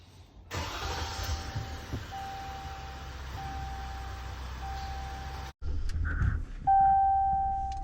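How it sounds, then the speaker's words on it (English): A 2020 Ram 1500 EcoDiesel pickup engine cranks and fires, settling into a steady close idle for several seconds, then cuts off abruptly before chimes and electronic warning beeps sound from the cab. "now we're gonna start the truck."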